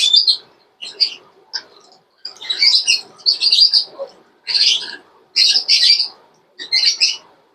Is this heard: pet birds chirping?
yes